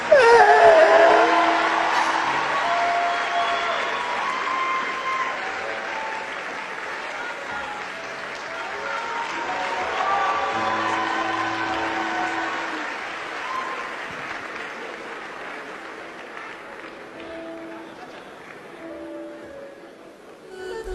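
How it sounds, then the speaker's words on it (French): Audience applause at a Cameroonian gathering, a sustained wash of clapping that starts loud and slowly fades over about twenty seconds, with faint voices and tonal sounds underneath. "Merci d'applaudir."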